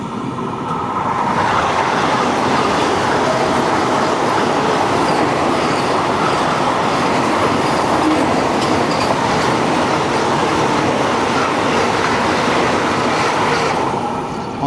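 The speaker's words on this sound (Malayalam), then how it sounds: "ഇതാണ് സെക്കന്ദരാബാദ് തിരുപ്പതി വന്ദേ ഭാരത് എക്സ്പ്രസ്" The Secunderabad–Tirupati Vande Bharat Express passes close by at speed: a loud, sustained rush of wheels and rushing air with clickety-clack and a faint squeal. It swells in quickly and stays strong until fading at the very end.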